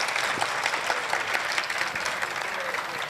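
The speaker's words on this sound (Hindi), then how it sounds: "बता कीजिए, तालियां होनी चाहिए यार।" A mushaira audience of poetry listeners claps in a dense, sustained round of applause, heard close and even throughout.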